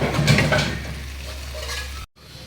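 A spoon stirring banana flower (mocha) cooked with coconut in a pan, soft scraping and gentle sizzling close by, fading slightly before a brief cut to silence.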